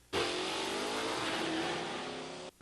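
A 1962 Pontiac Catalina with a 421 Super Duty engine, built as a strip car, roars in one loud sustained rev, holding a steady high pitch before cutting off abruptly.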